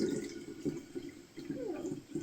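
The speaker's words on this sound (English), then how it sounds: "This ain't my first rodeo pouring liquid through a funnel into something." Kombucha poured through a funnel into a bottle, a short close gurgling trickle of liquid with uneven splashy pulses.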